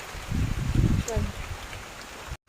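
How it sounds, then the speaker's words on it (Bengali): Heavy rain falls steadily outside a home, a dense wash of drumming and splashing. Speech overlaps it, and a brief cutoff comes near the end. "দেখো আবার বৃষ্টিটা জোরে জোরে আসছে"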